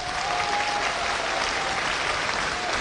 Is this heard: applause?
yes